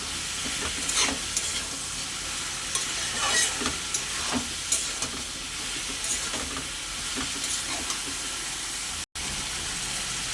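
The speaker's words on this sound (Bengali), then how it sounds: "একটু ভালো করে আমি মশলাটার সঙ্গে কষিয়ে নেব" Spice paste with Kashmiri and regular chili powder sautéed for a prawn and banana-flower dish, a loud steady sizzle broken by repeated scraping stirs and a brief dropout near the end, no speech.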